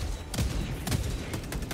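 Several heavy booming shots ring out in quick succession from a mortar in a robot-shooting video game, dense blasts stacked over a constant rumbling battle bed.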